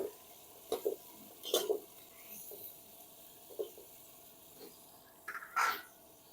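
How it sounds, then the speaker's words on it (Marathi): Tomatoes being stirred and tossed in a pan over a wood-fired chulha stove, with a low frying sizzle under scattered scraping stirs and one louder clatter near the end, no talking. "नंतर टाकायचे टमाटे. आणि एकदा अडतून परतून घ्यायचं"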